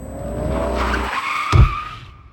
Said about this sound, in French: Un crissement de pneus assourdissant et un choc sourd